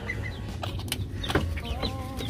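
A Serama miniature chicken, a new breeder bird, clucking in short close calls, several soft clucks and chirps over a low background hum.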